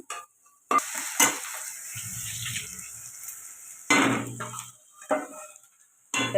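Onions with salt frying in a pan, with bursts of sizzling and stirring scrapes between quieter stretches, close up and without talk.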